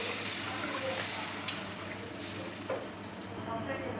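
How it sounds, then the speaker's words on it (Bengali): Water pours into a pan of sautéed spiced potatoes, giving a steady broad hiss and sizzle with a few faint clicks of a utensil and no speech. "কষানো হয়ে গেছে, এবার আমি জলটা দিয়ে দিচ্ছি।"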